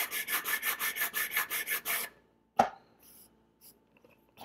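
An aluminum sanding bar rasps back and forth on a model-building part in about ten quick, even strokes, close and rhythmic, followed by a sharp knock and a few faint handling taps.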